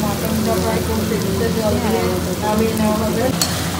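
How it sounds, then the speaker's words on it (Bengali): Rice is stirred and fried in a wok for pulao after the fried onions are done, a constant close sizzle with scraping spatula strokes, a voice murmuring beneath. "চালগুলো তুলে দিয়েছি, দিয়ে নেড়ে চেড়ে নিচ্ছি।"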